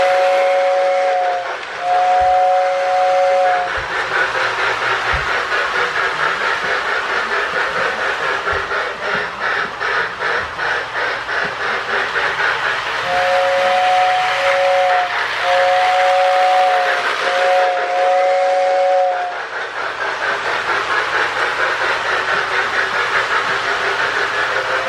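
A Marx toy passenger train with Crooks passenger cars and a powered sound tender runs steadily with loud continuous rumbling and clatter, its two-tone whistle blowing in short bursts near the start and again several times later.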